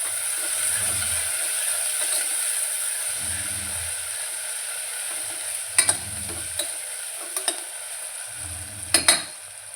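Onion and tomato being stirred in a hot pan make a soft continuous sizzle. Low rumbling scrapes of the spoon come in bursts, and a few sharp metallic clinks follow near the end.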